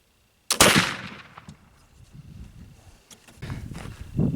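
A single loud blast from a homemade black walnut black powder load fired through a chronograph, close by, followed by a decaying rumble and some faint handling noise.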